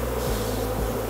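Honey bees buzz around a hive during a nuc transfer to a long hive, a faint, steady low drone with a slight wavering hum and no voices.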